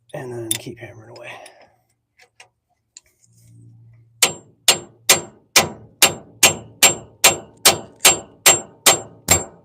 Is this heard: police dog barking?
no